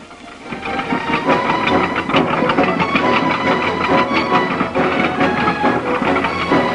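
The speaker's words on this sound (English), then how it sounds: "men are laying pipes with a trench cutter" A trench cutter digging a ditch for laying pipes grinds and rattles continuously, a dense mechanical clatter with engine drone, loud and steady throughout.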